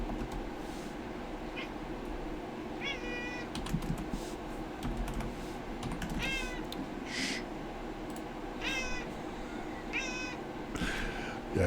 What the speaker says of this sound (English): There's my kitty. I see you, kitty. We all hear you, too.